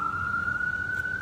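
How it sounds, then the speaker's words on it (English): An ambulance siren holds a single steady tone at constant pitch throughout, sounding from some distance with no other sounds over it. "Why I hear the ambulance?"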